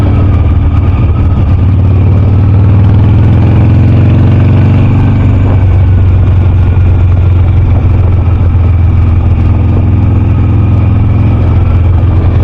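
A 2006 Harley Davidson Sportster powering out in second gear, its engine a loud, close, continuous rumbling drone with a steady throb that holds throughout.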